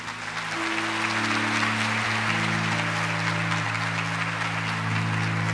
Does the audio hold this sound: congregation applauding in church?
yes